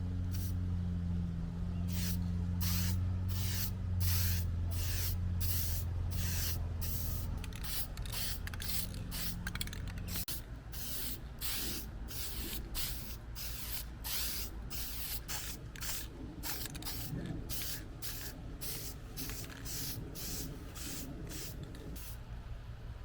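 Gloss clear coat is sprayed onto wheels in a long series of short, sharp hissing bursts, spaced irregularly, close and distinct over a low background hum.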